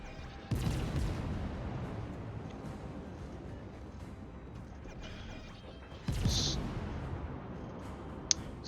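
Battleship main guns firing in World of Warships, with two heavy booming salvos several seconds apart over a constant rumbling background, no voices audible.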